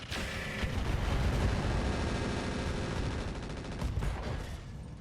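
Mech weapons and machine guns fire in the RogueTech video game, a dense, continuous barrage of loud overlapping gunfire and blasts that runs throughout and eases slightly near the end.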